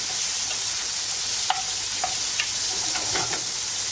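Garlic and tomatoes frying in a pan over turned-down heat, a steady soft sizzle with a few scraping stirs and clinks.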